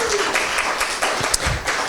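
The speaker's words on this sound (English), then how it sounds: "Round of applause for our judges asking so many great questions." Audience applause for the judges at an accelerator final presentations event, a brief round of clapping at moderate volume in a room.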